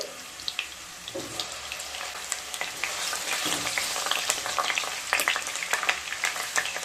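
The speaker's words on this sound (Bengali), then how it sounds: "এবার আলুগুলোকে ভেজে নেব" Three medium-sized potatoes frying in hot mustard oil in a kadai make a continuous close hiss, dotted with sharp pops and crackles that grow busier and louder toward the end.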